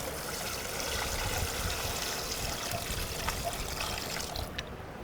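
Brine pours steadily over a turkey in a continuous splashing stream, close up, then tapers off near the end.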